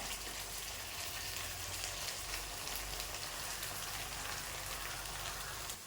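Ginger, garlic and onion fry in a pan over a high flame, giving a steady, dense sizzle that stays loud and even throughout with no voices.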